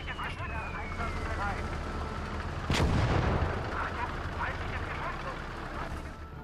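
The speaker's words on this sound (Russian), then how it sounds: "Это по мне стреляют!" Artillery and gunfire in the World War II strategy game Call to Arms: Gates of Hell, set in the siege of Sevastopol, with one loud heavy blast midway over a constant rumble of distant firing and battle noise.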